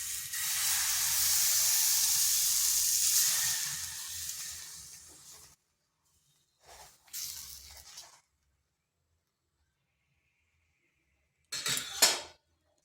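Batter ladled into a hot oiled pan sends up a loud, steady hissing sizzle for several seconds, which cuts off and then returns in two short, sharp bursts.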